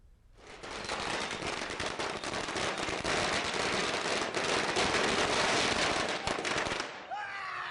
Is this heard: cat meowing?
no